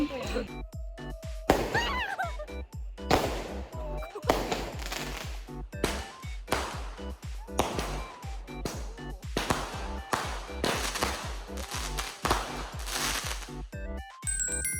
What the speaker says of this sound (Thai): เพื่อนเราจะมาจุดพลุอันใหญ่